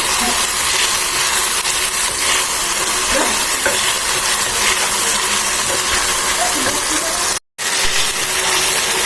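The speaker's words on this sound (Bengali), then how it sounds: "মাছগুলো দেওয়ার পরে কিছুক্ষণ এইভাবে নাড়াচাড়া করতে হবে।" Dried fish is stirred and fried in a spice masala, giving a continuous loud sizzle with scraping stirs, broken briefly by a moment of silence.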